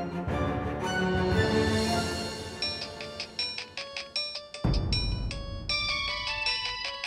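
A phone ringtone plays for an outgoing call, a melodic electronic tune of repeating bright tones that pauses briefly and restarts, fairly clear and close with no one speaking.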